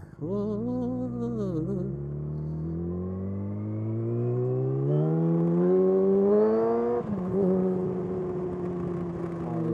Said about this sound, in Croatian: Oj, kako se čuje ovaj motor, kako radi.